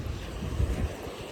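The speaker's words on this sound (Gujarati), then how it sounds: "મસ્ત મોજું આવે ને એટલે પાણી ઉઠે" Sea waves breaking against rocks at Nagoa Beach in Diu, heard as a brief, low, rushing surge mixed with wind buffeting the microphone outdoors.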